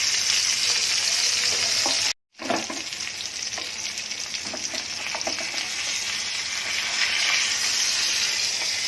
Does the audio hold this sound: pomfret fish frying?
yes